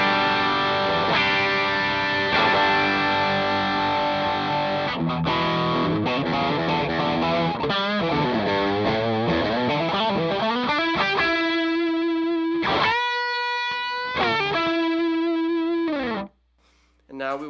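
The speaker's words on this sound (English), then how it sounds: "And I'm going to use the broken arrow first." A max-gain electric guitar on the bridge pickup runs through a Broken Arrow overdrive and then a Golden Boy overdrive, giving loud, sustained distorted chords and riffs that ring steadily and stop abruptly near the end.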